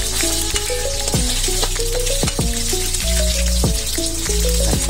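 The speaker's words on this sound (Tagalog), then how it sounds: "Kasi kunting prito na lang din naman ang gagawin natin dito." Chicken wings that are already cooked get a short second fry in hot oil, making a steady, loud, dense sizzle and crackle the whole way through, with a few metallic clanks and knocks over the top.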